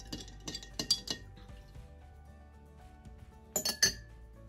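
Ice and glass clink in a few quick bright clusters while a tequila margarita is mixed, close and crisp, with a quiet pause between the early clatter and a final burst.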